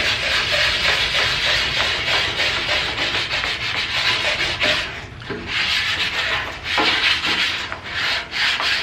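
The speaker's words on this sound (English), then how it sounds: "I'm going to take my pumice stone, start circular motions, working on the spreading out that" A pumice stone scrubs a rusty Blackstone griddle spread with oil, moving in circles. It makes a loud, close, gritty rasping with a steady rhythm and brief pauses between passes.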